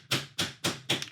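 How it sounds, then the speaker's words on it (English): A hammer's plastic face taps on wood during a gothic book nook build, four sharp evenly spaced knocks about a quarter second apart, close and clear with no talking. "I wonder if the hammer will work."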